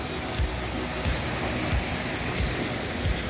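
Water rushes steadily through a channel feeding an old water mill, a dense, continuous close roar with soft periodic thumps and no voices.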